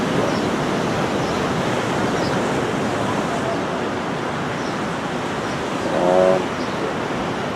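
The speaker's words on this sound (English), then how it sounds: "Just noticing the sounds of the ocean." Ocean waves wash continuously onto the shore in a steady, full surf roar with a slight swell near the end, heard alone without any voices.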